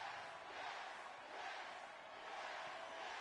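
A wrestling arena crowd in WWE 2K23 chanting and roaring for a wrestler, a steady, faint wash of massed voices that swells gently and holds without a break, heard from a distance.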